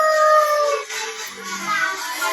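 A dog howls and whines in a drawn-out, wavering cry, close and fairly loud, lasting a couple of seconds.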